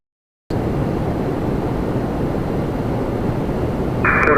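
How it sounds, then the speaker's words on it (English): A WestJet Boeing 737 MAX arriving at Toronto Pearson from Punta Cana gives a steady, broad jet roar at moderate distance, holding even throughout with no voices. "This one's coming from Punta Cana, 737 MAX."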